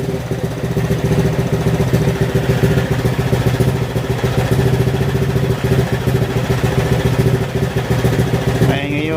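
A Honda ADV150 scooter with an overheating problem idles while warming up, its engine giving a steady, close, even rumble with a clattery edge throughout.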